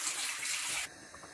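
Water pours steadily into a pot of fish soup, a bright continuous splashing stream that cuts off sharply partway through, leaving a softer trickle and faint bubbling alone.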